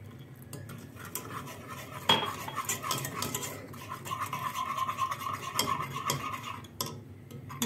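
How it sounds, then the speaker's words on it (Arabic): A spoon scrapes and clinks steadily against a pan while a water-based mixture is stirred over heat for a stovetop cake, close and fairly quiet with a few sharper knocks; no voices. "كنخلطو حتى يغلى داك الخليط ونطفيو عليه"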